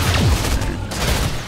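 A single Penetrating Shot ability firing in Heroes of the Storm, a short, booming projectile burst with a falling whoosh and some impact crackle, loud and close, lasting about a second.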